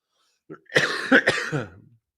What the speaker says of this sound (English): am coughing right in your guys' AirPods or speakers or whatever it is right now